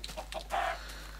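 Minecraft chicken clucks in short soft bursts, with a louder, more sustained cluck in the middle, set against a steady low hum of game background noise.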